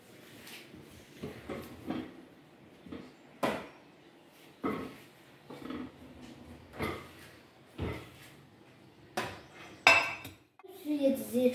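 A metal baking dish being picked up and set down, giving a series of separate clanks and knocks at close range, with a brief scrape near the end.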